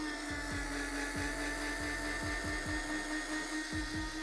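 A Bosch Go cordless screwdriver drives screws back into pre-drilled holes with a steady motor whine that rises and drops in repeated short bursts, close and loud, with no talking.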